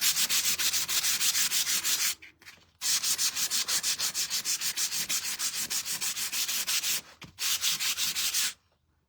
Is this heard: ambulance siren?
no